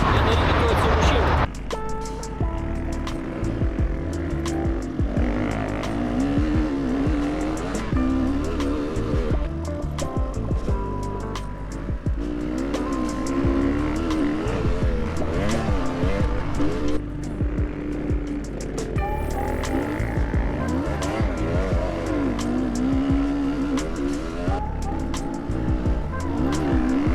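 Enduro motorcycles revving hard on dirt, engines rising and falling in pitch with spinning, skidding wheels, loud and close, while someone talks over the noise at times.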